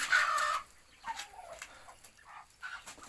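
Chickens being caught on a farm cluck and squawk loudly at first, then give softer intermittent clucks and calls, with no talking.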